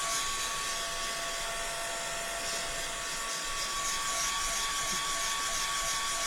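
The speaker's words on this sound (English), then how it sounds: "So let me just give it a little blast dry" A blast dryer blows steady, loud hot air while paint dries on an MDF house, a continuous whooshing hiss that runs alone without pause.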